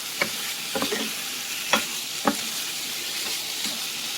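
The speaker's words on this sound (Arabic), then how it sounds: "انزل عليها بالكبده واديلها تقليبه كده مع البهارات" Beef liver sizzles steadily in a hot pan with spices while a spoon stirs it, scraping in a few brief strokes over the continuous frying hiss, close and with no talk.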